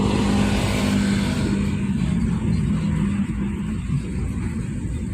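A 2012 Toyota Avanza Veloz with automatic transmission on a test drive, a steady, loud engine drone and road rumble from inside the cabin, holding an even tone throughout with no talking.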